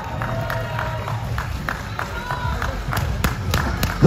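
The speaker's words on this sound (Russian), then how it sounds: "ваши аплодисменты" Scattered clapping from an outdoor crowd after a boxing master class at a Moscow sports day in Luzhniki, with dull thuds and talk mixed in over a busy background.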